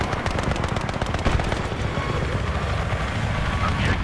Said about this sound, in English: I've spotted a hostile helicopter